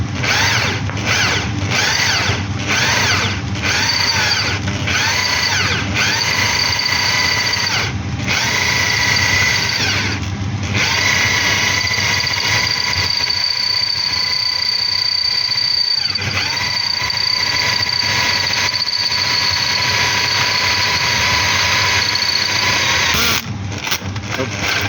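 A power drill boring holes in anodes at low speed, a loud continuous whirring grind that stutters and pauses near the start, then runs steadily, with a person talking over it.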